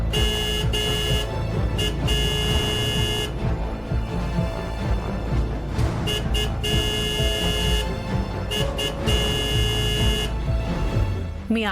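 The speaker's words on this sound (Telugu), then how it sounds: "మీ ఆయన హారన్ కొడుతున్నాడు" A car horn honks repeatedly in short and longer blasts over a busy background of traffic and music in a Telugu drama scene, the sound loud and close throughout.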